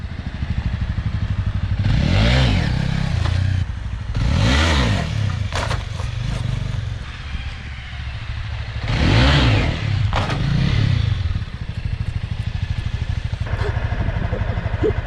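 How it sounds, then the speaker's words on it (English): A CBR300 motorcycle idles nearby with a steady low rumble, rising into several sweeping revs as the rider tries to pop the clutch for a wheelie. "I'm gonna be trying to pop the clutch and thrust the bike into the air."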